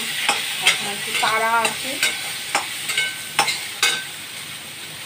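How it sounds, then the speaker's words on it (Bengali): Boiled potatoes frying in a pan with ginger paste while being stirred: steady sizzle with repeated scraping strokes of a spatula, a few louder clacks, and a brief spoken remark over it. "এবার আলুগুলো দেবো, দিয়ে একটু ভাজবো।"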